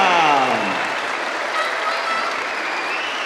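An audience at a children's festival with the Macedonian Philharmonic claps in sustained, dense applause that fills the clip evenly from start to finish, with a brief fading tone at the beginning.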